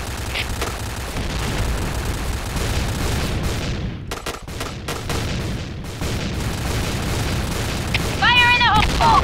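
A grenade explodes in a video game, a cluster of sharp booms and crackling bursts in the middle over a steady battle din, with voices speaking briefly near the end.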